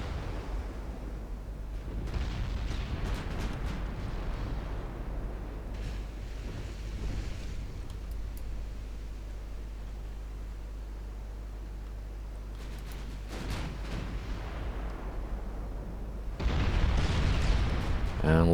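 Naval guns fire and shells strike an enemy cruiser in a 1913 naval battle video game, a steady low rumbling barrage with distant booms that swells louder near the end.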